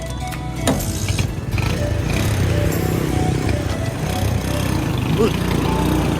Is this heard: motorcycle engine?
yes